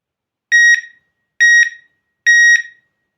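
Three sharp, evenly spaced electronic alarm bursts ring out loud and close from a Garrett Super Wand handheld metal detector picking up a knife, with clean silence between them.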